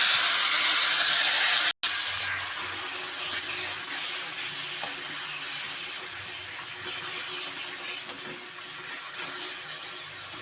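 Boiled taro greens hiss and sizzle in a hot pan, a steady broad frying hiss after a brief cut near the start, fairly quiet with occasional small crackles and no speech.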